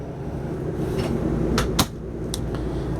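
Bathroom door in a 2003 Fleetwood Tioga 29V Class C RV swings open with a few sharp clicks and a light knock against a steady background hum, close and fairly loud, no speech.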